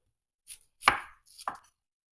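Red and yellow onions being cut roughly into big pieces with a knife, three sharp close chops spaced about half a second apart, with silence between them and no talk.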